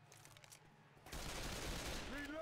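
Rapid pistol fire erupts in the video game Left 4 Dead 2, a sudden dense burst of shots midway through after a quieter lead-in, close and loud.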